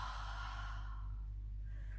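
A steady breath out during a Pilates chest lift at home, near and fairly loud, gradually tapering off, with a low constant hum underneath and no speech.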